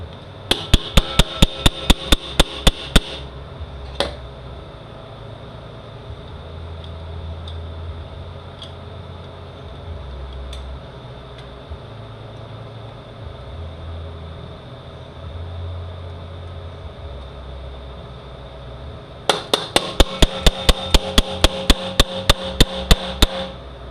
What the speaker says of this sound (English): use a rubber mallets and keep it walking out